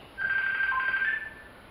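A mobile phone goes off during a church sermon, giving a faint, steady electronic tone that lasts about a second over a quiet room, with no voices.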